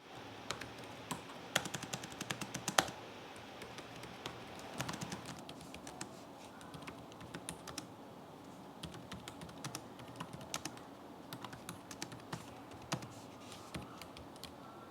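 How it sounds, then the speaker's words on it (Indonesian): Typing on the keyboard of a 2022 ASUS TUF Gaming F15 FX507ZM laptop gives quiet, crisp key clicks in irregular bursts and scattered single taps, heard alone and close to the microphone. "contoh suara feedback dari keyboard TUF Gaming F15"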